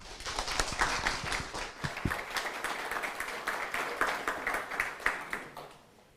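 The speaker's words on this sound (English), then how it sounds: "I appreciate the claps" An audience at a panel event on the global food crisis and young smallholder farmers applauds the moderator and panelists as they take the stage, a steady patter of many hands clapping for about six seconds before fading, fairly distant and soft.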